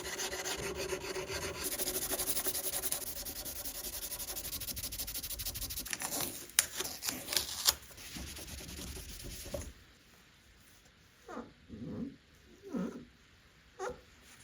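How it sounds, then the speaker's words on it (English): By-hand filing and sanding of a repaired inlay on a 1979 Gibson guitar, with steady close rasping strokes that grow scratchier before stopping, followed by a few separate short rubbing scrapes. "I first need to shape and sand down the inlay that I repaired a day earlier"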